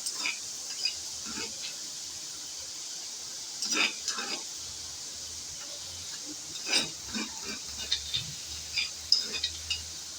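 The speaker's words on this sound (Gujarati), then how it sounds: "આપણે લસણ નાખી દઈશું અને એ પણ થોડું સતળાવા દઈશું" Faint, steady sizzling of onion and garlic sautéing in a pan, with occasional scraping and stirring knocks throughout.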